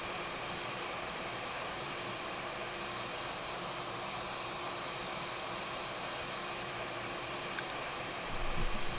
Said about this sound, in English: We got engine starting.